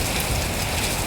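Light rain falls outdoors as a steady, even hiss of drops close by, with no other sounds over it.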